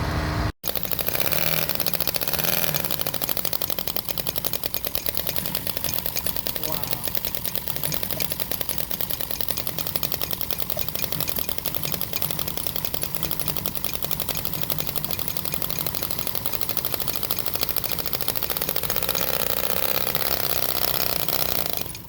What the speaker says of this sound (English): that little engine is quiet as a mouse.